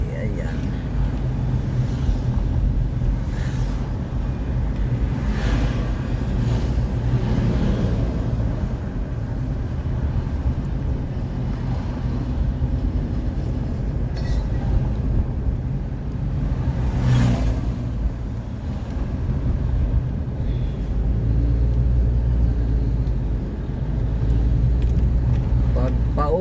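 A car drives through city traffic in Baguio City, giving a steady low road and engine rumble throughout with occasional swells as it accelerates, and voices talking over it at times.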